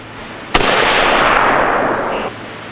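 A single sharp AR-15 rifle shot fired through a Double Star 3/4-inch bullseye muzzle brake cracks loudly at close range, followed by a long rolling echo that fades over about two seconds.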